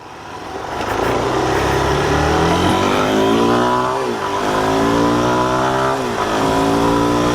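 A 2025 Suzuki DRZ4SM fuel-injected motorcycle engine revs up smoothly and loudly close by, climbing and falling in pitch through several throttle blips with no talk.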